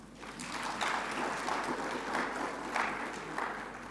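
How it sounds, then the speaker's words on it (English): Audience applause at a welcome address on medicine and healthcare: a fairly faint, steady patter of many hands clapping for about four seconds, with no voice over it. "I thought you would clap for that."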